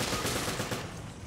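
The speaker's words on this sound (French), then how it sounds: "Mais la mitraillette est bien puissante" Machine gun fire from the video game Resident Evil Revelations, a dense rapid burst of shots running continuously, loud and close without talk.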